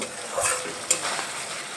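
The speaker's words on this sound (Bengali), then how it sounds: "গ্যাসের ফ্লেম মিডিয়ামে রেখে মশলা কষিয়ে নেব" Spice paste frying in a pan over a medium gas flame for rohu fish curry with papaya and potato, a steady sizzle with a couple of soft spatula scrapes and a brief clink.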